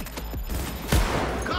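Automatic weapon fire in the video game Cyberpunk 2077, a rapid burst of shots with a sharp heavy report near the middle, mixed with game sounds and background noise.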